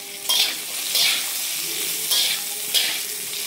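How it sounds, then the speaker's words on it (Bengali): Pumpkin pieces fry in leftover hilsa fish oil, a close sizzling hiss punctuated by four brief bursts as the pieces are stirred and turned. "মাছ ভাজার এই তেলটার মধ্যে আমি দিয়ে দিচ্ছি কুমড়োগুলো"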